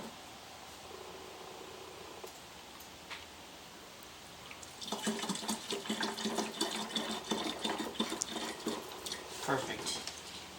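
Coolant poured from a jug into a car's reservoir, a soft liquid trickle and splashing that grows busier in the second half, fairly quiet.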